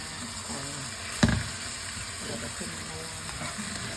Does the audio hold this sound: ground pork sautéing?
yes